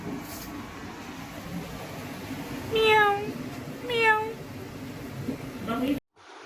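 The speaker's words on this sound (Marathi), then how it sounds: "या मांजरीने छोटे छोटे पिल्लं दिलेत" Two thin, high kitten meows sound a second apart, with a fainter third later, over a steady background hum.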